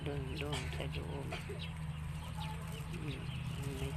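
Chickens cluck in short bursts over a steady low hum, with people talking nearby.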